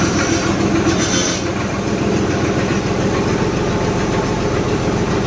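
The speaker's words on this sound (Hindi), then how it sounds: "लो जी, चेक करो ट्रैक्टर की आवाज़, 4x4 भाई" A Powertrac Euro 50 4x4 tractor engine runs steadily and loudly up close, a continuous rumbling drone with a regular mechanical beat and no talk over it.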